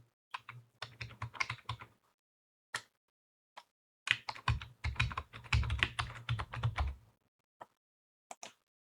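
Password being typed on a computer keyboard during a Microsoft Entra ID sign-in: two bursts of rapid, close key taps with a short pause between them, then a few isolated clicks, with no talking.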